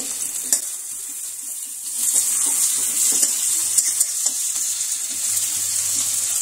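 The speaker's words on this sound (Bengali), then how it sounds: "এবার তেলটা গরম হয়ে গেছে। কেটে রাখা পেঁয়াজ কুচিগুলো দিয়ে দেব।" Chopped onions fry in hot oil in a pan, a steady bright sizzle with faint crackles and occasional stirring clicks, continuous and close, no one speaking.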